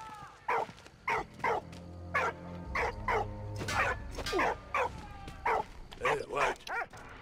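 Dog barking in the World War I game Valiant Hearts: The Great War, a series of close, sharp barks in an irregular rhythm, with a low music or ambience bed underneath.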